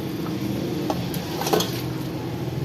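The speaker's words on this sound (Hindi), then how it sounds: "अब जो है ये गोश्त डाल रहे हैं इसके" Beef pieces drop into masala frying in a pot for nihari, adding soft clinks and stirring scrapes over a steady low sizzle that continues throughout.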